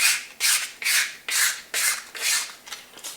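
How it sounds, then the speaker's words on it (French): Sandpaper rubbed back and forth over rubber bicycle handlebar grips in about seven quick, even strokes, each a close, dry rasping scrape separated by brief pauses. "on prend du papier de verre"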